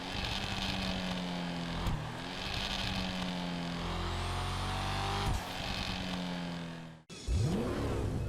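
Verlierer car engine in GTA Online revving repeatedly: throaty rising and falling sweeps over a deep rumble, loud and close, cutting out abruptly near the end before one last sharp rev, with no voices.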